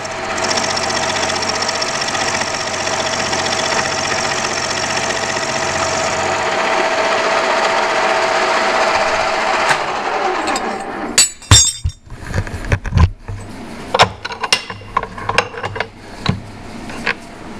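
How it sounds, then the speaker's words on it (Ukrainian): A milling machine milling a metal blank into a rectangle: a loud, steady whine and hum for about ten seconds that winds down and stops, followed by scattered metallic clanks and knocks. "Зараз йдемо на фрезерний. Фрезеруємо заготовку під прямокутник."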